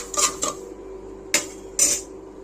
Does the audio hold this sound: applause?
no